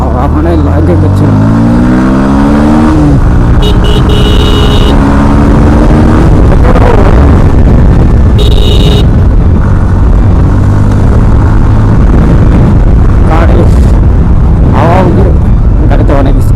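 A car travels fast through wind and rain, its loud rumbling engine and buffeting air roaring constantly beneath people talking inside the vehicle.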